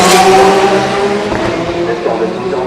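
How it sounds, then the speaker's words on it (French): A race car at the 2016 24 Hours of Le Mans pulls away from a pit stop, its loud, close engine note rising and then easing briefly as it leaves. "Attention, la voiture qui repart."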